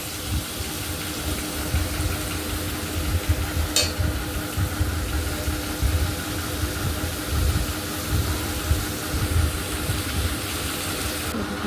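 A home-style curry cooks down in a pan and sizzles with a continuous, fairly loud hiss. Occasional scraping suggests stirring, and no voices are present.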